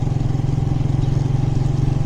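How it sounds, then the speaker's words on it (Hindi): Motorcycles ride past near the flooded Sutlej river around Bahawalpur, giving a steady, fairly loud low engine drone with an even throbbing pulse and no talking. "ये लोग मोटरसाइकिलों पे जो आ रहे हैं"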